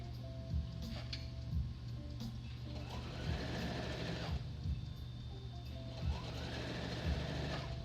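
A sewing machine stitches bias tape onto curved fabric with a steady mechanical whir, its motor humming continuously while brief clicks and thumps mark the stops and starts, heard close with no talking.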